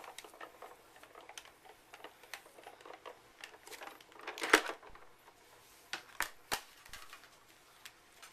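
A manual embossing machine presses cardstock held in an embossing folder between A and B plates, giving soft ticking and clicking as the crank turns, with a louder crunch midway and a few sharp clicks toward the end.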